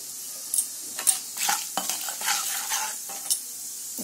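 Cashew nuts sizzle in hot oil in a pan for a South Indian Pongal dish, with a spoon scraping and stirring in soft, irregular strokes and a few sharp clinks against the metal.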